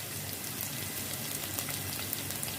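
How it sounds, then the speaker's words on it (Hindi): Garlic and ginger frying lightly in a pan give a soft, even crackling sizzle, close but fairly quiet, steady throughout with no voices. "लहसुन अदरक को हमने हल्का सा फ्राई कर लिया।"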